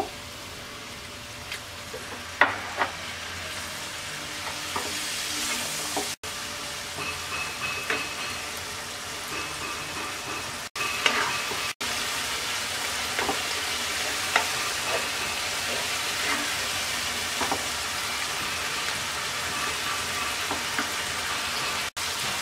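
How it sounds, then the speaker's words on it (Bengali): Spice paste for chicken dopiaza fries with a little water in a pan, a long steady sizzle dotted with soft pops and spatters, and a few scraping stirs, with no one speaking. "অল্প একটু পানি দিয়ে মশলাটা কষিয়ে নেব।"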